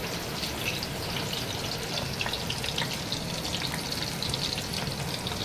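Sliced onion fries in hot oil with curry leaves, a steady, fairly quiet crackling sizzle that continues without pause.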